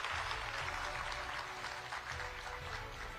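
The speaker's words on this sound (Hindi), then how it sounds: "जोरदार तालियां हो यहां पर" An audience at a Hindi-language conference session applauds a first guest, a dense, steady wash of clapping from many hands that continues evenly throughout, moderately distant and fairly quiet.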